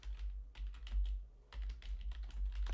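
Someone types on a computer keyboard to look something up, two quick bursts of close, light key clicks with a short gap between them over a low hum.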